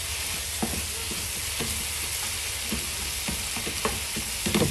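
Sausage pieces frying in a pan for rougail saucisse, their skins rendering fat, a constant dense sizzle with occasional scraping and stirring clicks, close by and without talk.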